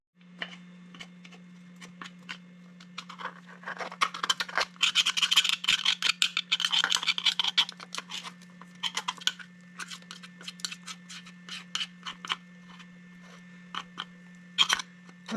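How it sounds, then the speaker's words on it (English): Flat screwdriver scraping packed sawdust and debris out of a Husqvarna chainsaw in a shop, a run of close, irregular scratchy strokes, busiest in the middle, over a steady low electrical hum. "I just use a flat screwdriver, get rid of most of it."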